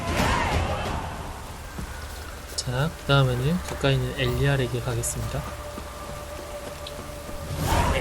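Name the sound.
rain falling in a video game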